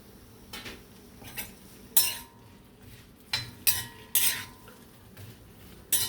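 Onions frying and being stirred in a pan for malai methi matar: a metal spoon clinks and scrapes against the pan in irregular bursts over a faint, low sizzle, with no voices.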